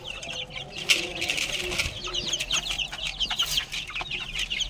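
Chickens cluck and chirp in a lively farmyard flock, with repeated short calls overlapping near the microphone and a rooster-like cry among them, with no talking.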